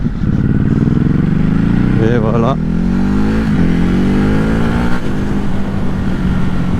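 A 2021 Ducati Hypermotard RVE engine revs loud and close, its droning note climbing steadily in pitch with a rough, knocking edge low in the rev range, while someone talks over it.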